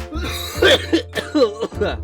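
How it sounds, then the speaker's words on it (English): A close, loud burst of several rough coughs in quick succession, ragged and throaty, with a bit of throat clearing mixed in. "I've also been coughing up a lot of dust because I've been cleaning."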